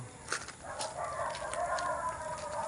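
A flock of male turkeys gobble in short, throaty bursts over a busy background, a few sharp calls standing out nearby.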